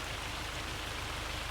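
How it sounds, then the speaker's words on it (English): Hail pelting down in Farming Simulator 25, a dense, even patter of countless small impacts forming a continuous hiss, fairly quiet and steady throughout with no voices. "Yes, it has started to hail."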